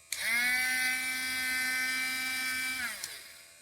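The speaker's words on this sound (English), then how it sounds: "this is my old nail grinder" An old electric dog nail grinder whines at a steady high pitch for about three seconds, close and on its own, then winds down and cuts off.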